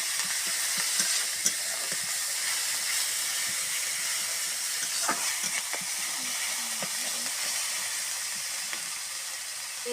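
Onion paste frying in a pan for a new flat bean dish, a steady bright sizzle with soft stirring scrapes and occasional crackles, close and continuous with no talk.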